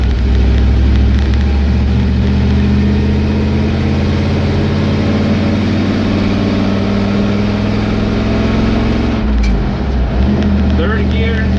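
A Dodge W100 pickup with a carbureted 5.3 LS V8 swap pulls a trailer in first gear, its low engine drone steady and loud throughout, with a brief dip near the end.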